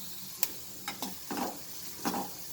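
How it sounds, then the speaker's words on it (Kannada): Onions and curry leaves frying in a pan for a peanut gravy, with a few soft scrapes and stirring taps over a faint steady sizzle, close and quiet. "ಸ್ವಲ್ಪ ಫ್ರೈ ಮಾಡ್ಕೊಳ್ಳೋಣ."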